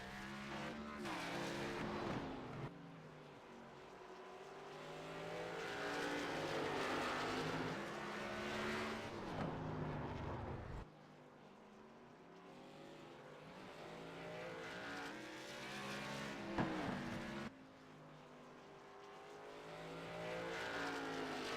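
Race car engine noise on a track as the number 87 machine rolls out, a sustained loud drone with shifting pitch that swells, drops off sharply, and rises again in several passes.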